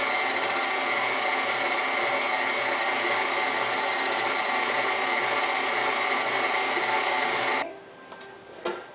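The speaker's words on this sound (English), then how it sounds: "mixer going too fast or you're going to end up with powdered sugar flying everywhere" An electric mixer beats peanut butter with powdered sugar, its motor a steady, even whine that runs unbroken for several seconds and then cuts off abruptly.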